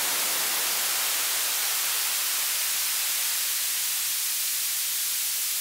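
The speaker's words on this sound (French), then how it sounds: "on a le générateur de bruit qui passe dans le filtre. Voilà mon bruit blanc." A modular synth noise generator sends white noise through a high-pass filter, producing a loud, steady hiss with the low end stripped away, unchanging throughout.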